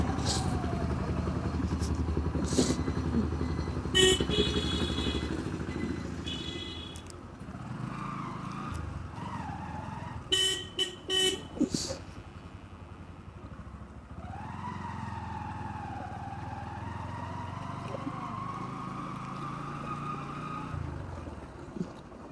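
A 250cc motorcycle ridden along a road in the rain, with a steady engine drone and rising and falling revs, passing vehicle noise, and speech over the engine.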